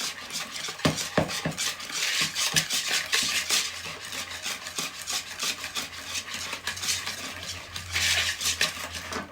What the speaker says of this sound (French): je vais à nouveau mélanger tout ceci